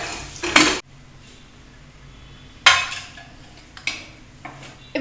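A pressure cooker of cooked green gram is opened after its whistle has fully released, with loud metallic clanks and brief bursts of hiss from the lid. Quiet background hum and no talk.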